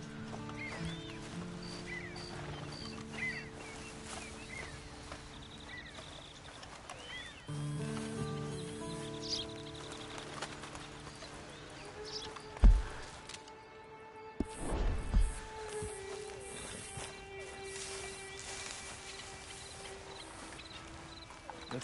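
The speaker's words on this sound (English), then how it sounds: "Then you better get on this horse." Horse hooves clip-clop at a steady walking pace in Red Dead Redemption 2, mid-distance under a continuous bed of game music, with a few sharper knocks and thumps partway through.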